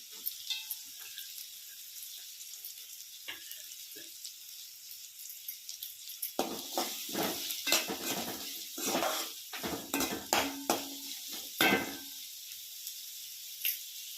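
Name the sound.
garlic and chopped onions frying in a pan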